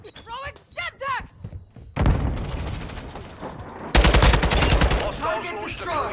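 A Semtex grenade goes off in Modern Warfare amid a firefight on the Valderas Museum map: talk and gunfire give way to loud, close blasts and rapid shooting that come in two heavy bursts.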